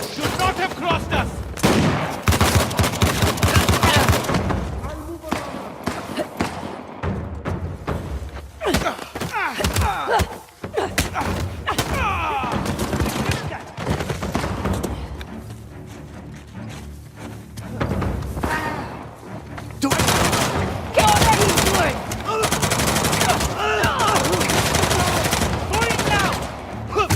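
Gunfire in Uncharted: The Lost Legacy, heavy rattling volleys and thuds in a chaotic shootout, loud and near, with shouting voices mixed throughout.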